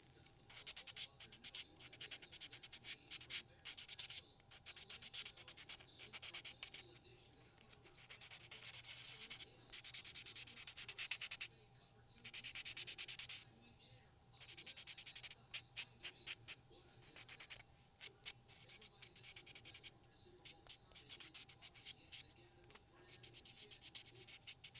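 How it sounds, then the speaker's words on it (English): A nail file rasps against a fingernail in quick, close, quiet strokes, with short pauses between bursts of scratchy rubbing. "when you're filing on these, you can tell when you have a low spot."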